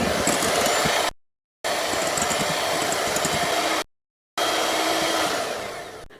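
An electric hand mixer beats whipping cream and fresh cream together for a pudding, a steady loud whirring drone that cuts out twice briefly, then resumes and tapers off at the end.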